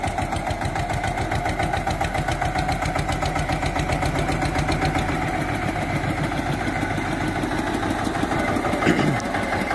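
An Eicher tractor engine runs steadily at idle, a close, continuous diesel chugging with a fast even knock from start to finish and faint voices under it.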